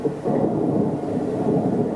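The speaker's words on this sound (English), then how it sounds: "Let's draw a picture and listen to the rain." Steady rain with a low rumble of thunder rolling underneath, a dense continuous wash of sound at moderate loudness with no voices.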